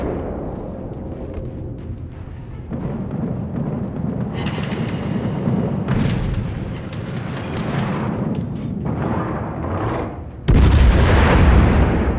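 Heavy naval guns firing during a World of Warships battle aboard the Soviet battleship Petropavlovsk, a sustained rumbling barrage of booms with a sharper, louder blast near the end.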